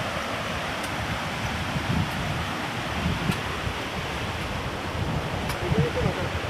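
Flowing water of the Dasa river near Debotakhum: a steady, broad rushing wash that holds an even level throughout, with no voices heard.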